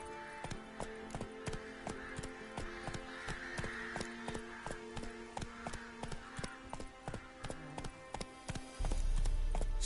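Horse hooves in The Witcher 3 clop in a steady, quick rhythm, close and clear for the whole stretch, with a low rumble rising near the end.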